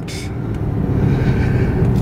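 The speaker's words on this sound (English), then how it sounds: "There is nothing more lovely than the sound of a Maserati." A Maserati GranTurismo Sport coupe in sport mode drives along with a steady, deep engine rumble that grows slightly louder, heard from inside the car.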